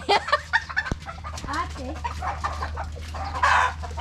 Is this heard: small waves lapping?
no